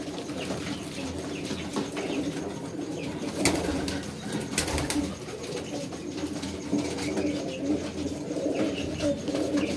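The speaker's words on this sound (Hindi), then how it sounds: "ये उड़ा हुआ कबूतर है, नस्ली कबूतर है" Pigeons, including a golden purebred flier, coo softly in a loft, their low calls blending into a steady hum of background noise with a couple of sharp clatters and faint wing flaps.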